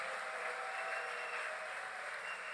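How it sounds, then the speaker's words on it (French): A church congregation at a thanksgiving service applauds together, steady dense clapping that fills the room evenly throughout with no voices. "Put your hands together for the Lord."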